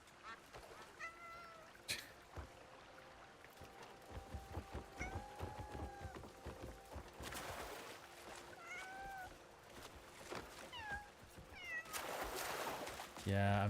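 A video game cat meows several times in short rising calls among game sounds and effects, with a person talking in between.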